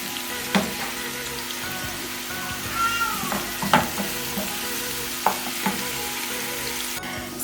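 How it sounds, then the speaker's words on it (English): Garlic frying in a pan toward golden brown gives a steady, close sizzle, broken by a few sharp clinks and scrapes of stirring. "put your garlic too. And let it cook for like 5 minutes until it's golden brown"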